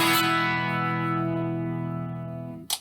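One strummed chord from an Eastwood Classic 12 twelve-string electric guitar on its bridge pickup, run through an amp modeler, sustains and slowly decays, then ends in a short noisy click as the strings are muted.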